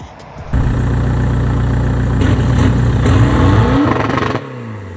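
A diesel car engine, a 1.9 TDI PD130 with the EGR deleted, revs loudly and steadily close by for about four seconds, with a strong low rumble before it cuts back toward idle.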